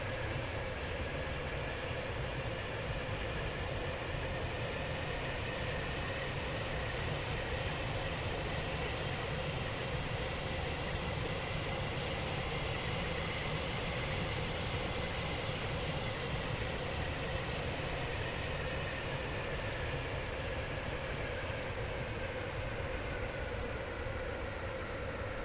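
A passenger train runs between stations, giving a steady interior rumble and hiss of wheels on rails at a constant moderate level with no break, and no one speaking.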